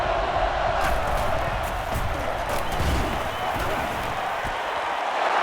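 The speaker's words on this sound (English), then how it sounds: "And this crowd is going crazy." A crowd in the NCAA Football 09 video game roars in a dense, unbroken wash of cheering for the whole stretch, with muffled voices blended underneath.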